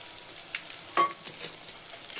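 Egg curry spices, including chili powder and coriander powder, sizzle steadily in a hot pan while being stirred, with soft scraping strokes and one sharper clink near the middle, with no talking.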